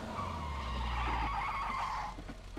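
A car in a video game brakes hard and skids to a stop, a sustained loud tire screech over engine rumble that fades out at the end.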